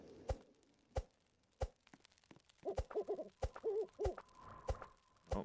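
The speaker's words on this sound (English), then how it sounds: "Oh, I hear the owl. That's not good." Owl hooting in the Roblox forest survival game 99 Nights in the Forest, a series of soft, low hoots repeating over several seconds alongside sharp knocking thuds, with no voices.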